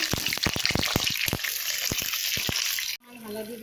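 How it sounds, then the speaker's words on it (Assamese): Cut potato strips hit hot oil in a wok and crackle with sharp, irregular pops over a steady sizzle for about three seconds, then the sound drops to a quieter hiss. "আলুবোৰ দি ভাজি লওঁ।"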